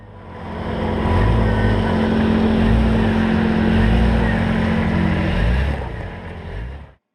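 A Jeep Cherokee XJ grinds up a rocky climb on Yankee Hill, its engine droning steadily and loud with low rumbling surges for several seconds before cutting off abruptly.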